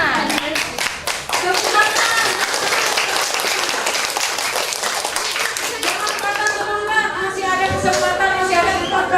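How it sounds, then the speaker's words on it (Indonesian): Elementary schoolchildren in a classroom clap for a classmate, a brisk burst of many small hands clapping close by that settles into rhythmic unison claps, with children's voices mixed in. "Beri tepuk tangan sama temannya."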